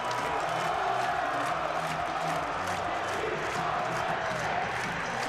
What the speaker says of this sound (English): this Nittany Lion crowd is into it